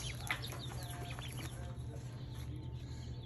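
Rouen ducklings, a domestic mallard breed, peep in a steady stream of high, rapid chirps at a farm store, heard over a constant low hum.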